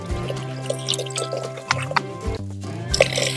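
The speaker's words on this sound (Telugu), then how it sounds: "ఇప్పుడు 2 గ్లాసులు వాటర్ పోసుకున్నాం ఫ్రెండ్స్." Water poured into a cooking pot for village-style pepper rasam made with tamarind and tomato, a steady liquid splash and fill running close and continuous for a few seconds under a tonal background.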